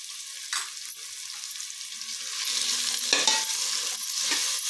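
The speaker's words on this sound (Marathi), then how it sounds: "मी दोन मोठे टॅमॅटो कापून घेतलेले आहेत, ते पण आपण याच्यात गळ होईपर्यंत आपण भाजून घेऊया।" Two large chopped tomatoes with half a spoon of salt frying in a pan for veg pulao, a soft continuous sizzle with spatula scrapes and stirring, rising slightly in loudness partway through.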